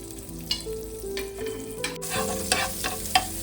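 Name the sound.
butter sizzling in a hot frying pan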